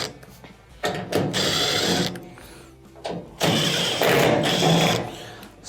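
A power driver whirs in loud bursts as it backs out 1/4-inch screws on the rear of a washing machine's top panel, close by and separated by short pauses.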